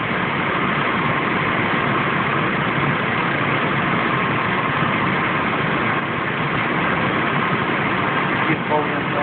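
A 1998 Chevy Blazer engine idles steadily with its AC compressor engaged, a constant dense rumble and whir holding throughout at close range, with no other sounds breaking through.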